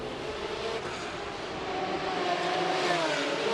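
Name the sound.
Formula 3 race car driving at the Macau Grand Prix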